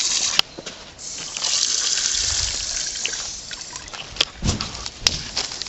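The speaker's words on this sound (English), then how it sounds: "add the same amount of water," Water pours in a steady trickling stream into a container during a chemistry experiment with hydrogen peroxide. The pour runs for a few seconds, close and fairly loud, with a few small knocks around it.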